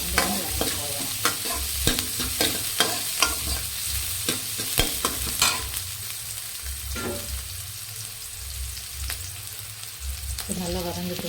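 Small onions frying and being stirred in a pan for fish curry, a steady close sizzle broken by repeated scraping stirs of the spoon, with no talk.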